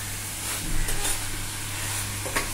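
Jaggery modak filling with cardamom is stirred in a hot pan, a continuous soft sizzle with scraping strokes, close and steady, no talking.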